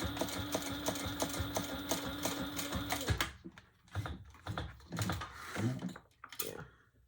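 A sewing machine stitching a leather tote runs in a fast, even mechanical patter for about three seconds, then breaks into short separate bursts of stitching, close and moderately quiet.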